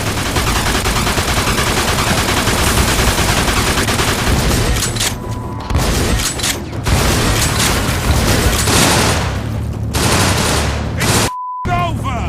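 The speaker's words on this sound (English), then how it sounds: "They're shooting at me, for Christ's sakes." Gunfire shootout in the Mafia 2 video game, with dense, loud, sustained bursts of automatic and rapid shots continuing almost without pause, broken by a few brief gaps near the end.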